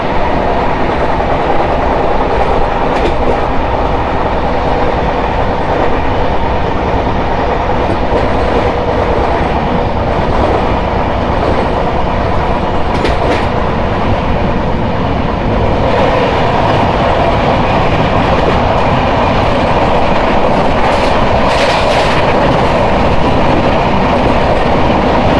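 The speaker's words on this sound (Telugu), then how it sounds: "గ్రాండ్ ట్రంక్ ఎక్స్ప్రెస్ న్యూఢిల్లీ నుంచి ఎంజే చెన్నై సెంట్రల్ వరకు వెళ్తుంది." The Grand Trunk Express, running from New Delhi to Chennai Central, rushes past loud and close, a sustained roar with rhythmic wheel clatter over the rails.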